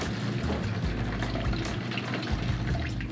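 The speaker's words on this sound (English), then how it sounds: "Grizzle gozzle, the sound of water leaving the crust." Chicken frying in hot oil for its second fry, the crust releasing water in a steady, dense sizzle and crackle that stays loud and even throughout, with no voices over it.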